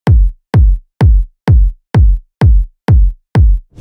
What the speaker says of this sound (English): The only thing I applied to the kick is EQ and the filter, and I also layered the kick with the top kick.